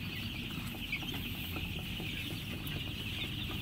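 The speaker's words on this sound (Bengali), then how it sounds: "মুরগি খুব চঞ্চল আছে" A flock of 14-day-old Sonali super hybrid chicks chirps and clucks faintly in a farm shed, with a constant murmur of small calls over a steady background hum and no talking.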